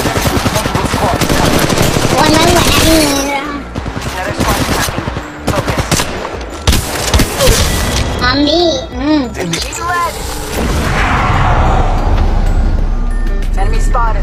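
Rapid automatic gunfire and scattered shots from the Apex Legends Mobile battle royale game rattle in loud bursts, mixed with a voice and in-game callouts across the fight.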